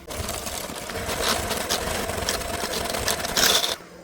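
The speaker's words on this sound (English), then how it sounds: "I'm just gonna use my hand mixer for this, mix it up, make it nice and fluffy" An electric hand mixer whipping cake batter for a cinnamon swirl bundt cake, a steady close motor whir with a faint rhythmic rattle, running alone and cutting off abruptly at the end.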